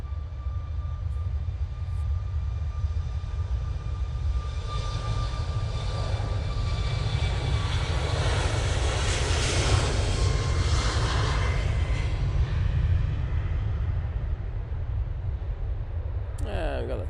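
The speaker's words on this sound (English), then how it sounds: "Ryanair touching down." A Ryanair airliner touches down at Manchester Airport, its engine roar a steady, broad rumble that swells toward the middle and holds loud throughout, heard at a moderate distance.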